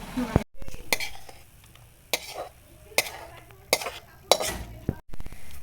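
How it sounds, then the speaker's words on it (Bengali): A sour-spicy jujube (kul) pickle is stirred in a pan with a splash of vinegar: sharp spoon-on-pan knocks and scrapes come every second or so over a faint sizzle. "সামান্য ভিনিগার দিয়ে দেবো, আবার নাড়াচাড়া করে নেবো।"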